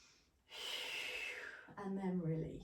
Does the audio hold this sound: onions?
no